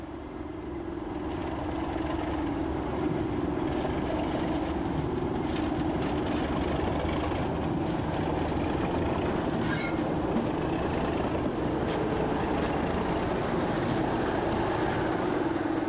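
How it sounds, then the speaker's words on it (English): A Class 37 diesel locomotive arriving with its train, a steady low engine growl and rolling rail noise building after the first second and holding loud and continuous throughout. "The second train arrives, with the 37's characteristic growl."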